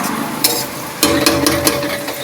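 Malabar spinach with turmeric and salt being stirred in a pan: a soft steady sizzle broken by a few quick scraping and clinking strokes of the spatula, close and fairly loud, with no talking.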